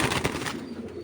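Male pigeons, including silver and green-necked ones kept for flying contests, give a short burst of low, pulsing coos nearby that quickly trail off.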